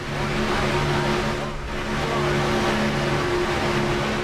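Several race car engines drone steadily in close pack racing at Talladega in the iRacing game, their sustained tonal roar holding level with a brief dip midway and no voices over it.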